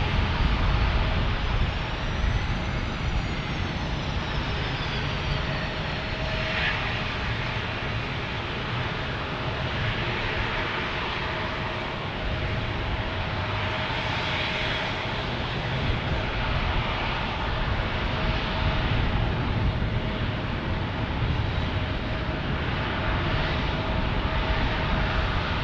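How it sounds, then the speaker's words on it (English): A United Airlines airliner arriving from Washington Dulles lands at a busy single-runway San Diego airport, its engines a steady loud roar and broadband rush that holds for nearly half a minute with slight swells, no voices. "landing from Washington Dulles, United Airlines"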